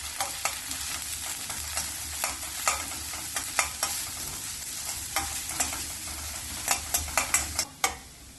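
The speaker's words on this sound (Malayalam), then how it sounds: "ഇതിനി ഇളക്കി വഴറ്റാം" Chopped onion, garlic and a green chili are stirred and sautéed in a pan, giving a steady light sizzle broken by sharp scraping clicks of the spatula that bunch up near the end.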